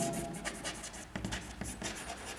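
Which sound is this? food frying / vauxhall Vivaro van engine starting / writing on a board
writing on a board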